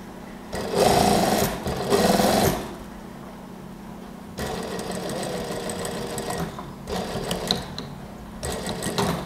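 Sewing machine stitching a Japanese zipper onto an A-line gamis, several close bursts of rapid mechanical whirring that start and stop, with quieter handling between runs.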